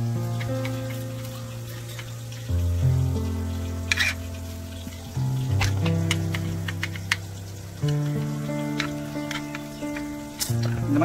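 Onion and garlic frying in a pan for Dindigul-style seeraga samba chicken biryani with mutton fat, a steady sizzle marked by repeated sharp utensil clinks and stirring scrapes, with a low hum shifting in steps.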